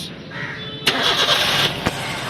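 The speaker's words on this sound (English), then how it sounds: "Now we will start the engine in neutral for around 20 minutes." A Suzuki Ritz (Splash) car engine cranks and starts in neutral, with a sharp starter burst followed by a steady idle running close by. A brief click sounds near the end. There is no talking.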